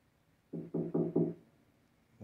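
Four muffled knocks on a door in quick succession, fairly faint and distant, followed by a short pause and the start of another sound.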